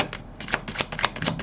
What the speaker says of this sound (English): let's shuffle the cards and see what we get for you